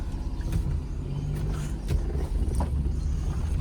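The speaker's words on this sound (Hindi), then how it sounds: "और अब करते हैं गाड़ी का स्टार्ट" A Maruti Alto car engine catches and runs on a hot day in Himachal, a close, low, steady rumble with slight rough pulses, no talk over it.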